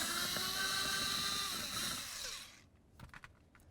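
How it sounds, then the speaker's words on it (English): A Torx bit socket on a power driver spins out a T27 Torx screw from the door of a 2009-2020 Dodge Journey, a loud steady whir for over two seconds that stops abruptly, followed by a few faint clicks. "We're going to remove this screw."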